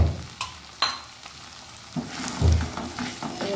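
Tomato puree for rajma masala frying in a pan, with a soft sizzle broken by clinks and scraping strokes of a spoon stirring it, close and fairly loud near the end.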